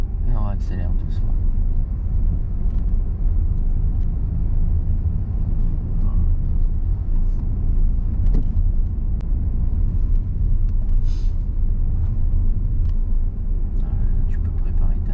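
A car engine accelerating gently during a driving lesson, a steady low rumble of road and motor noise throughout, with an instructor's voice talking over it.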